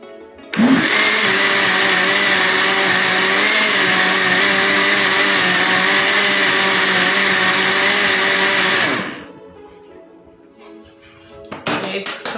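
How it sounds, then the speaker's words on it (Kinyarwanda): An electric blender whirs at full speed for about eight seconds, blending bananas with sugar for pancakes, a loud steady whine that starts abruptly and stops, followed by softer handling noises. "Hanyuma dupfundikire ya blender, dukurikizeho gusya."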